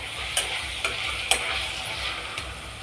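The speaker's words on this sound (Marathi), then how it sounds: "काळा मसाला, हळद टाकून टाकलं. हे हलवून घेऊ." Masala rice base with black masala and turmeric being stirred in a sizzling pan, a close, steady fry with a few sharp spoon taps and scrapes against the pan.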